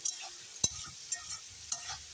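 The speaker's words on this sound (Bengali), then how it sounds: "আলুটা দেখো ভালো করে ভাজা হয়ে গেলো" Potato pieces fry in a pan for Holi-special ghugni with a soft sizzle, broken by a few sharp scrapes and knocks of a spatula stirring them, close and with no talk.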